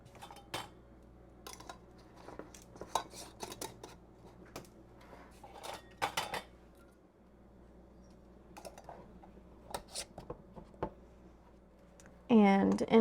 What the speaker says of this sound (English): we'll screw on our rings to fingertip tight, which means to the point of resistance and a 1/4 turn more